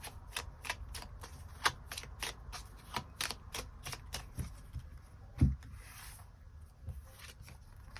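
Tarot cards shuffled and drawn: a long run of rapid, crisp card flicks, then a few softer slides and taps as cards are pulled, close and quiet with no talk.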